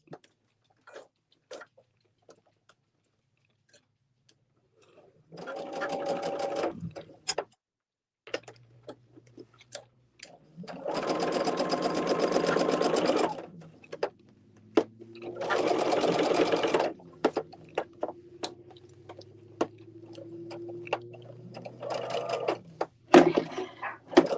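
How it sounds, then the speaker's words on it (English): A sewing machine stitches quilt blocks in several short bursts of close, buzzing whir. Quiet gaps and scattered clicks and ticks fall between the bursts. "now I'm sewing that"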